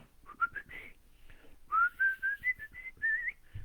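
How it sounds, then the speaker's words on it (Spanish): A person whistles while walking, a clear tune in short rising phrases with brief pauses between them, close by and with no talking. "Uno camina normal, silbando."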